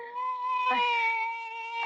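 A cat meows in a long, drawn-out wavering cry, close and fairly loud, rising slightly in the middle and trailing off, with no other sound around it.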